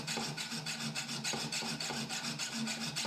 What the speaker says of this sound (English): Then the copper plate is cut,